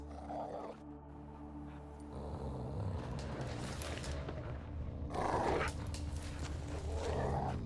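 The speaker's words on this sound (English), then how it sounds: "Just beware of the dogs." Dogs growling in The Witcher 3 video game, low snarling and rumbling that rises and falls over several seconds, fairly close, with gusts of game ambience around it.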